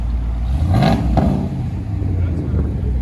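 A RAM truck engine revs deep and loud through a Dynamax muffler exhaust, swelling and falling off, with a person talking over it.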